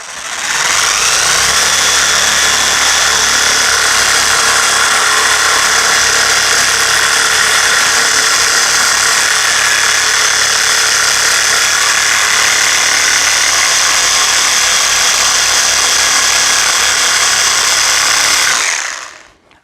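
A 20 mm scraper sander strips stubborn, firmly stuck paint with a loud, steady buzzing whine that holds unbroken for nearly twenty seconds, then cuts off abruptly at the end.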